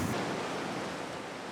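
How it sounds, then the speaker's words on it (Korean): Large ocean waves breaking along the rocky shore of Ulleungdo island in winter, a loud continuous roar of surf and wash with no voices. "이 파도가 굉장히 또 크게 이제 또 오거든"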